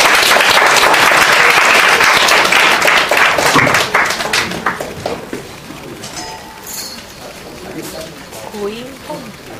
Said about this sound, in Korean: 큰 박수 맞으시면 감사하겠습니다.